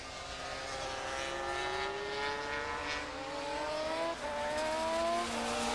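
Racing motorcycles screaming past during a race, high rising engine whines shifting through gears, a continuous loud roar from several bikes at track distance with no voices.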